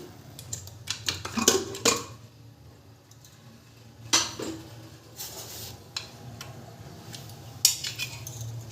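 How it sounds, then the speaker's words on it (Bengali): A pressure cooker lid being twisted and lifted off after cooking chana for chana masala, with close metallic clanks and scrapes in short bursts separated by quiet pauses, no talking. "কুকারটা আমি ঠান্ডা করে তারপরে আমি কুকারের ঢাকনাটা খুলছি"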